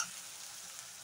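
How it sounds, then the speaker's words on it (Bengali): Cumin and coriander spices being stirred in a hot frying pan, giving a steady soft sizzle with faint scraping throughout, close and fairly quiet, with no talking. "জিরে, ধনিয়া আমার একটু নেড়ে চেড়ে মিক্স করে নিই।"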